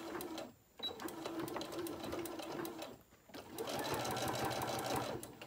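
A sewing machine back-stitches fabric to reinforce pockets on a sewing machine mat, running in close, rapid mechanical bursts with two brief pauses where the stitching stops and restarts.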